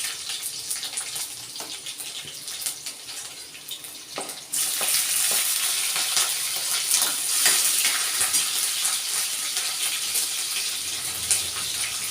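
Garlic and chopped chili hit hot oil midway, bursting into a loud, steady crackling sizzle that holds close and bright after a quieter start of light kitchen clatter, for cabbage bhaji.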